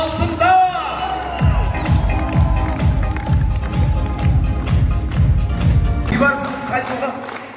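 Wedding party guests in Almaty burst into loud applause and cheering, with a steady rhythmic beat pulsing underneath and voices mixed into the crowd noise.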